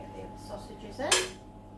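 A metal or ceramic lid is set onto a sausage casserole dish in a home kitchen, giving one quick clattering knock with a brief ring, fairly close and moderately loud.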